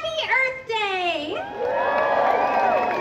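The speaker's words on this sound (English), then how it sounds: "Wow, what a crowd." A large outdoor crowd at Animal Kingdom's 25th anniversary celebration cheers and whoops, with high shouts and children's voices rising and falling in a loud, sustained roar throughout.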